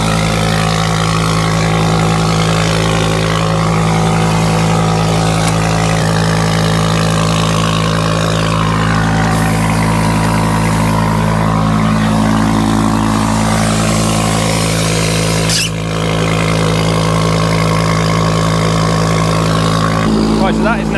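A tractor engine drones steadily and loudly while a vacuum tanker fills, a constant low mechanical hum with a faint whine above it throughout.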